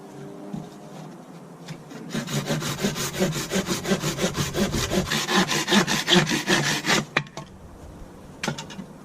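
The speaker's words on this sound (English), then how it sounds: "I gotta saw some wood" Rhythmic back-and-forth strokes of a hand saw cutting through wood, loud and close, running for several seconds before stopping, then a few last strokes.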